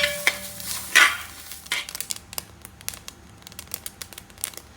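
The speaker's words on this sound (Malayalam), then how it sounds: "നമ്മുടെ അരി പൊട്ടുന്ന സൗണ്ടാണ് കേട്ടോ കേൾക്കുന്നത്" Scattered sharp pops and crackles over a quiet scraping background, with a couple of louder bursts early on, from rice grains roasting in a pan.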